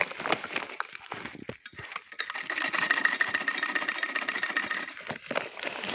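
A sewing machine stitches the corner of a rice sack with a fast, continuous mechanical whir that pauses briefly and starts again, punctuated by small clicks and handling noises.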